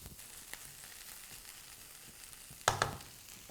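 Vegetable stuffing with plenty of chopped coriander is tossed in a hot pan, keeping up a low steady sizzle, then a sharp burst of clattering sizzle near the end as the mix is flipped.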